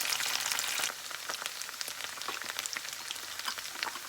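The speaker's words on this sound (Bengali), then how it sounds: "আদা দেওয়ার পরে আমি একটু আরেকটু ভেজে নিব আদাগুলোকে" Ginger sizzles in hot oil in a pan while cooking chicken biryani, a dense, steady crackle with scattered sharp pops. It is louder for the first second, then settles into a softer, continuous fry with no voices.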